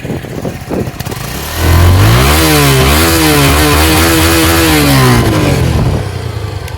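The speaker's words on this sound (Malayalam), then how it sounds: "ഞാൻ അതിൻ്റെ എഞ്ചിൻ സൗണ്ട് ഒന്ന് കാണിച്ചു തരാം." A Suzuki V-Strom SX 250 motorcycle engine idles with a clatter, then revs up loudly, holds high with rising and falling pitch, and settles back down, close and alone.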